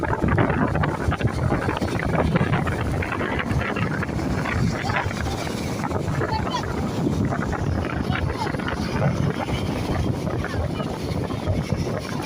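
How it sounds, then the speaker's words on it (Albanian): Strong wind at Shëngjin beach on the Albanian coast buffets the microphone with a continuous loud, rumbling roar that stays close and steady for the whole stretch. "Era po frim."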